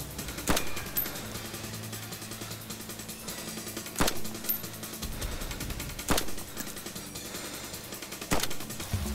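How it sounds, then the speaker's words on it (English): Gunshots in the video game DayZ, four sharp single cracks spaced about two seconds apart over a steady background rumble, fairly close, with no one talking. "I'm shooting them."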